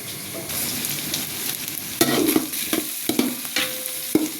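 Onions fry and sizzle in a pan while being stirred, a steady close sizzle broken by scraping clacks of the spoon against the pan.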